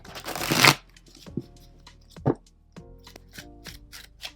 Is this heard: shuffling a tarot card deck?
yes